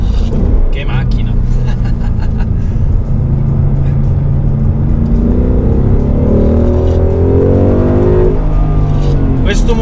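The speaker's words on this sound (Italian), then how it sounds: "Questo motore è veramente pazzesco, si capisce che è un V8 americano, un V8 da muscle car, 5000 V8 aspirato" Ford Mustang 5.0 naturally aspirated V8 muscle car revving hard on a track, a loud continuous engine roar rising in pitch through the second half, with someone talking over it.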